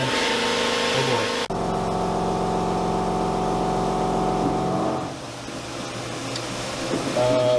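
A CNC mill faces down knife lockbar stock, a steady tonal whine of spindle and cutter with a sharp onset after a short lead-in, fading to quieter machine noise toward the end.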